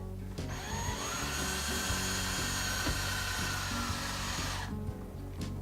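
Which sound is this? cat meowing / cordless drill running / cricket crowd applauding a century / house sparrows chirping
cordless drill running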